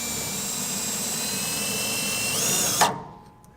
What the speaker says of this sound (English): we use the self-tapping screw